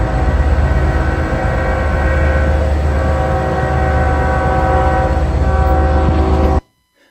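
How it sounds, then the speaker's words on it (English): A loud, sustained train horn blares with a rumbling railway roar beneath, holding steady for several seconds before the sound abruptly cuts to silence. "there's a train horn that's getting louder and louder, and then the video kind of abruptly cuts to black"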